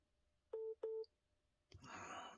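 Two short keypad tones from a telephone number being dialed, each a clean steady beep with a brief gap between them, followed by a burst of rushing line noise; no talking.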